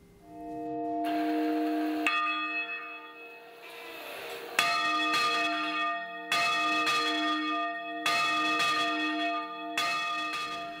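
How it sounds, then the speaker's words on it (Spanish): Church bells of Otura swinging and pealing, several bells tolling in overlapping strikes with long ringing tones, loud and close with no talk. "Las campanas de Otura tienen vida propia y voltean majestuosas."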